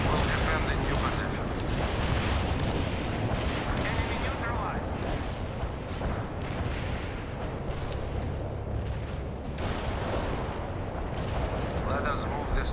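A rocket artillery barrage in the video game World in Conflict, with dense, continuous rumbling blasts and booms, loud and close throughout, under intermittent game voices.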